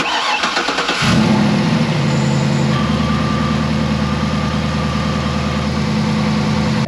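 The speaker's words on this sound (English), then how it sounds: "we can fire up our truck." A 2009–2013 Chevy Silverado truck, just fitted with a cold air intake, cranks and fires after a brief quiet moment. It settles into a loud, steady, rumbling idle that holds to the end.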